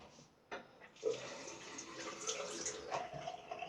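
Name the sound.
water rinsing shaving lather off a razor blade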